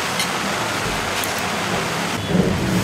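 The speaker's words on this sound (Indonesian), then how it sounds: "Di luar hujan ternyata nih." Rain falls outside a pempek eatery on a Jakarta street, a steady, fairly loud hiss of drops with no talking.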